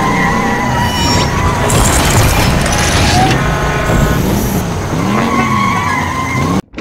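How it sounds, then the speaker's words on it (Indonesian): A Lightning McQueen toy race car gives a loud, continuous skidding screech with race-engine sounds. The sound runs for several seconds, then cuts off abruptly. "Wow, ini mobil balap Lightning McQueen."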